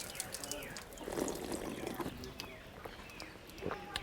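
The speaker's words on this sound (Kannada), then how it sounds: "ಬಂದೇ ಬಿಡ್ತು ನೀರು, ಜಾಸ್ತಿನೇ ಬಂದ್ಬಿಡ್ತು." Water gushes from an old hand pump, a steady splashing, trickling stream that stays fairly faint under a person talking nearby.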